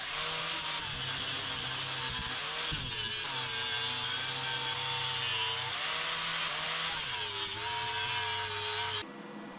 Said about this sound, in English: for some reason sandpaper seems to work pretty good.